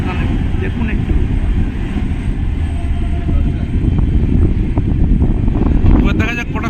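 Cabin of a moving superfast AC express train in India, hauled by a WAP-7 electric locomotive and just pulling out of Bandel in heavy rain: a steady, loud rumble of wheels and carriage runs throughout, with faint voices and a brief rattling clatter near the end.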